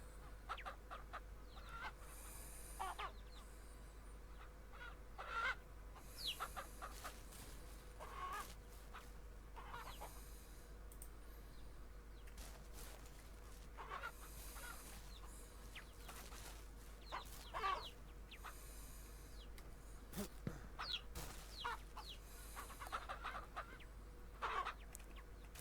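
Chickens in the farming game Ranch Simulator cluck and squawk in scattered bursts from a large flock, individual calls popping up over a quiet, steady background hum.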